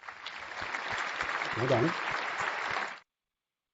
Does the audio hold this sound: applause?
yes